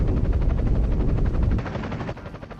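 A rapid rotor-like whirring from the aircraft in the video game Wallace & Gromit Project Zoo, loud and steady as it takes off, then dropping in pitch and level partway through.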